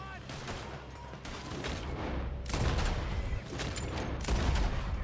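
Rapid gunfire from Red Dead Redemption 2, a dense burst of repeated shots and booms running through the whole stretch at steady loudness, with a faint voice underneath.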